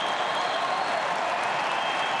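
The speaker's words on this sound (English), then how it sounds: "For the young fella, you can hear the cheer in the background there." A crowd cheers at a Richmond versus St Kilda Australian rules football match, a dense, steady roar of many voices and some clapping that holds evenly throughout.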